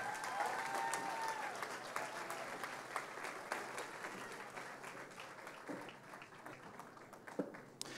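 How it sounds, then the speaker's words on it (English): An audience applauds an orchestra department at a school district board meeting, a steady mid-distance clapping that runs the whole clip, with a brief whistle-like tone near the start. "Another round of applause for our orchestra department."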